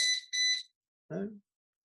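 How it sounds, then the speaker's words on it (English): Two short, bright electronic beeps from an access control card reader, close and clear, followed after a pause by a brief burst of speech. "you hear the beep"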